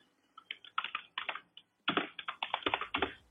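Fingers type on a computer keyboard while text is entered in PCB design software, producing quick bursts of close, crisp key clicks separated by brief pauses.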